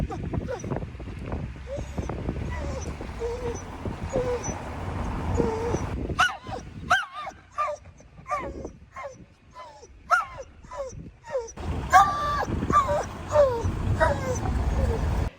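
Excited rescue dog on the way to the park, close by, giving a rapid run of high whines, yips and whimpers broken by occasional sharp barks, over a constant low rumble.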